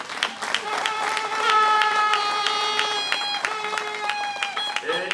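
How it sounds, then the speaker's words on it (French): An audience at the installation ceremony of a political association's section claps, with sharp hand claps standing out over sustained music or singing that carries through the whole passage. "si nous pouvons également les applaudir."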